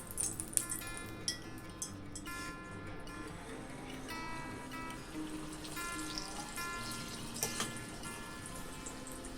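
Airolya batter test-dropped from a small spoon into hot oil, a soft bubbling sizzle with scattered crackles and faint ticks, low and close, with no speech.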